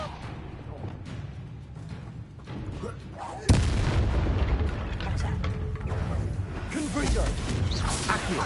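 A Repulso spell cast in Hogwarts Legacy combat lands as a sudden heavy blast partway through. Dense rumbling battle noise follows and stays loud to the end, with a voice faintly present beneath it.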